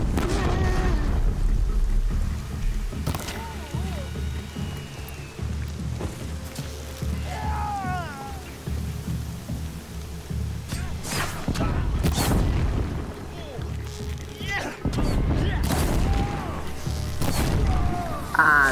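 Deep booms and crashes from Horizon Zero Dawn erupt at intervals over a steady rumbling game soundscape, several loud blasts landing close with a faint voice briefly audible.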